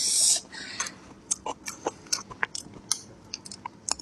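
Close, crunchy chewing and biting of spicy Chinese food with chili peppers, a string of sharp wet crunches at an uneven rhythm with no talk.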